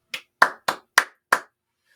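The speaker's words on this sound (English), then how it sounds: "Give a round of applause." Five sharp, close hand claps in an uneven rhythm, with quiet in between. It is a thin round of applause rather than a crowd.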